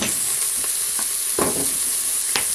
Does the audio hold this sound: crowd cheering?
no